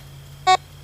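A metal detector gives one short electronic beep over a small piece of copper wire at a drained lake, a single crisp tone against a low steady hum.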